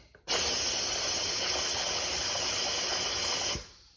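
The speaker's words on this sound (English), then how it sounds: "You can hear the air coming out" A loud, steady hiss of air escaping from a tubeless bicycle tire valve begins abruptly, holds for about three seconds, then cuts off, close and continuous.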